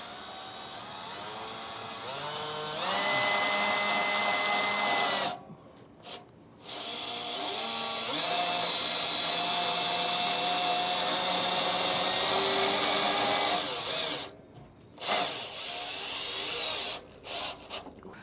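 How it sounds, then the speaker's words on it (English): A power drill drives a screw into an RV frame, whining loudly in several long bursts that speed up and slow down, with brief pauses between runs. "but we should be able to get this drilled in."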